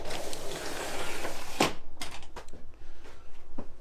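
A shower door in the bathroom of a 2023 Grand Design Imagine 2500RL travel trailer, with a sharp slide-and-latch clack midway followed by a few lighter knocks and rattles.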